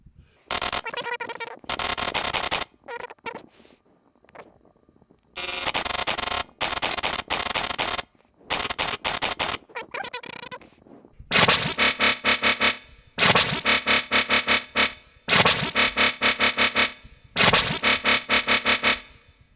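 Gritty, buzzing granular synth bass bursts in choppy repeated blocks with gaps between, then settles into a steady pulsing pattern, loud and close.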